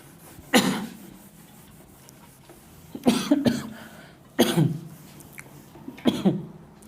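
Several separate coughs, close and loud, spaced a second or more apart with quiet room noise between them and no speech.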